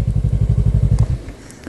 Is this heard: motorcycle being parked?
yes